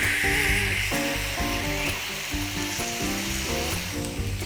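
A burger patty pressed down onto onions on a hot Blackstone griddle sizzles loudly and continuously, with a few soft scrapes and taps of a spatula.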